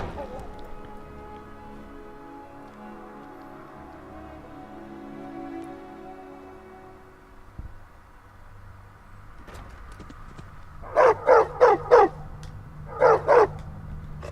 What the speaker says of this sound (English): Can't have you barking in front of the Jarl.